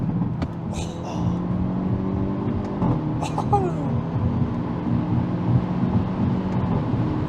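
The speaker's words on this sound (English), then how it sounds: "While we're accelerating a little bit, we can talk about noise." A Hyundai Elantra N engine accelerating in N mode, heard from inside the cabin as a steady, moderately loud low drone with a few faint rising tones across the full seven seconds.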